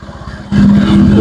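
Honda Vario 125 scooter engine idling with a steady low throb that suddenly grows louder and rougher halfway through as it revs up, close by.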